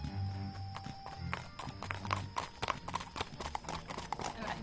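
Horse hooves clip-clop in the Yesterday Origins video game, a steady close trotting rhythm with a brief whinny and some background music and talk.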